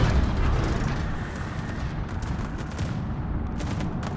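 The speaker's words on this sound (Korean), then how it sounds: "대공 사격 와 대공포 소리 좋다" Rapid anti-aircraft fire from the destroyer Lushun in World of Warships roars as a dense, continuous barrage of overlapping bursts, loud and sustained throughout with no talking.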